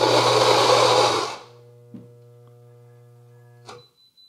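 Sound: Fellow Ode coffee grinder struggling to grind light dense espresso beans

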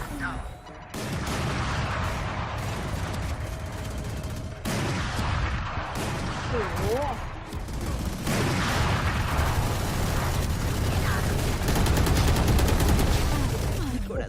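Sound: grenade explosions and gunfire in video game Valorant

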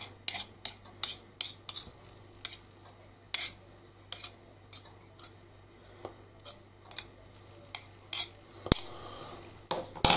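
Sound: spoon mixing banana bread batter in a bowl

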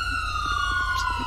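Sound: police sirens in a video game

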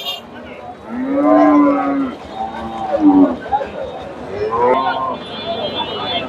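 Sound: cows mooing

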